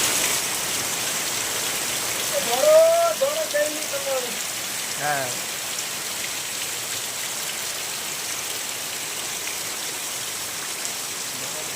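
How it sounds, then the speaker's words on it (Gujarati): Morning rain drips and patters steadily on a surface, with a brief voice speaking over it early on. "અમારે જો તો ટપક ટપક ચાલુ છે"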